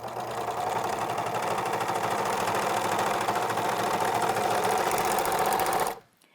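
American Home serger stitching a straight test seam at tension setting 3, a steady close, fast mechanical whir that runs for about six seconds, then stops abruptly.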